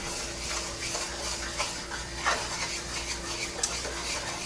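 A utensil scrapes and stirs across the bottom of a cast iron skillet while mole cooks, giving repeated close scraping strokes over a faint sizzle.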